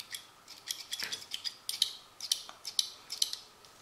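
Small scissors on a Victorinox Camo Climber pocket knife snip open and closed repeatedly, quick light metallic clicks and scrapes with a slightly odd spring sound, close and quiet.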